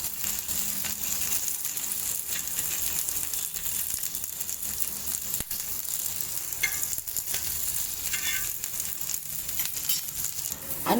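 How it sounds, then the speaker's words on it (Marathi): Green chillies roast over a low gas flame, giving a steady, close sizzle and faint crackle that runs unbroken throughout, with occasional light pops and scraping as they are turned. "बारीक गॅसवरती व्यवस्थित भाजून घ्यायच्या मिरच्या."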